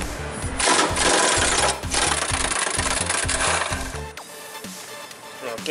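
A 13 mm socket on a ratchet working the nut off a BMW X3 E83 driveshaft center support bearing, a loud, fast, continuous grinding rattle up close that stops briefly and then winds down into quieter clicks.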